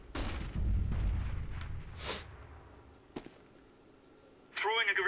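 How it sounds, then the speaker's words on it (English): Grenade blast in the shooter game CS:GO, a loud low boom early on that fades into quieter gunfire-like cracks, with a brief voice near the end. "Throwing a grenade."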